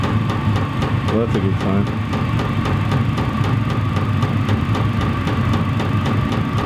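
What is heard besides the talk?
VEVOR 8 kW diesel air heater motor and fan running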